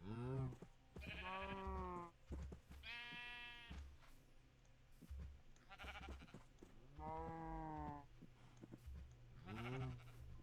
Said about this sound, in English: And we attracted a couple of sheep.